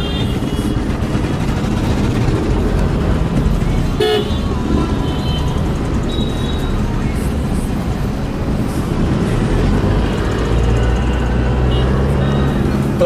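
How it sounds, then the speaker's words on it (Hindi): City traffic noise surrounds an Isuzu D-Max 4x4 pickup on a test drive, with a steady road and engine drone and a short car horn toot cutting through near the middle. "थोड़ा सा ट्रैफिक है"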